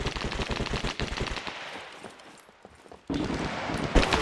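Gunfire in the survival video game SCUM during a town firefight, loud rapid automatic bursts that pause briefly and then resume, with no talk over it.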